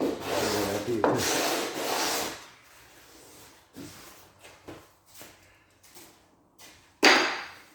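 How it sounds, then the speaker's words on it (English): Sandpaper scrubs old lacquer off Huon pine boat timber, first in long loud rasping strokes, then in short lighter rubs separated by pauses, ending with one sharp loud stroke. "Should be plenty enough on timber to re-sand the lacquer."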